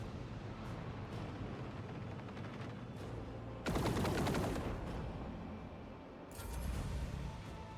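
Arc rifle gunfire in a Warhammer 40K game, a dense crackling burst of automatic shots standing out from a steady rumbling battle bed, followed by a second, shorter volley.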